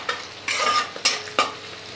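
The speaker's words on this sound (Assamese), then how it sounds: "এতিয়া লৰাই দিছোঁ গেছৰ ফ্লেমটো মই বঢ়াই দিছোঁ অকণমান" Bata fish sizzling in a hot pan over a gas flame while being stirred, with four distinct scraping strokes over the steady frying hiss.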